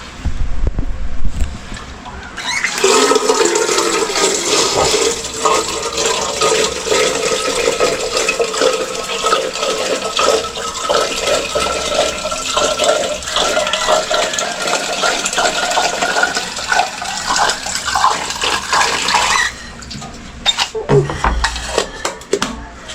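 Tap water runs steadily into a kettle being filled for heating, a continuous hissing splash lasting about seventeen seconds, close and fairly loud, with brief handling noises before and after.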